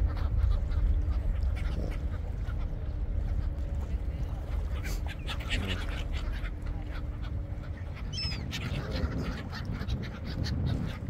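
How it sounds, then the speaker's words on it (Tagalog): Ducks quacking and chattering near the water at Doha Port marina district under a steady low rumble, with a few brief chirps standing out late in the clip. "kaya ibon na lang po kukuhanan natin."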